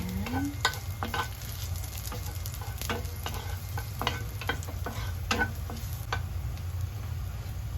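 Spaghetti noodles sauté in olive oil with a constant low sizzle, punctuated by frequent sharp clicks and taps as a utensil tosses and stirs them against the pan, close and steady throughout.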